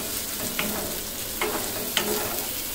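Chicken bhuna frying with ginger and garlic in a restaurant-style preparation makes a continuous soft sizzle, with a few brief stirring scrapes against the pan.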